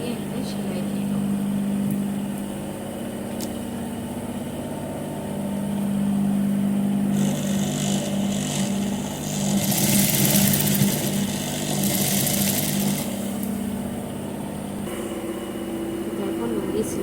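A sewing machine stitches the folded edge of a lungi, a close mechanical whirring hum that runs in stretches with brief pauses and shifts in pitch, with a person talking over it.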